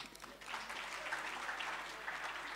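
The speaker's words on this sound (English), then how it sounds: "Give yourself a clap." An audience claps for itself at a public conversation event with President Thabo Mbeki, a brief, faint, distant patter of many hands clapping with no voices.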